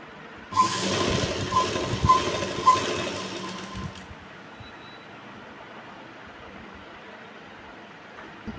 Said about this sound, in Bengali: সোজার সাথে উল্টো আমি একটা লম্বা লাইন সেলাই চালিয়ে নেব